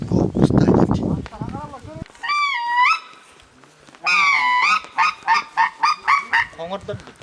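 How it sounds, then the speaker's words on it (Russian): A flock of bean geese honks loudly in repeated nasal calls as the birds fly past during a spring duck hunt in Yakutia, with someone talking nearby just before the calls. "Мимо пролетает стая гуменников."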